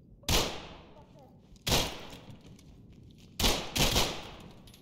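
Gunfire in the tactical shooter game Ready or Not: three loud, sharp bursts of shots a second or so apart, the last a close double blast, each with a ringing decay into a quiet room-like tail.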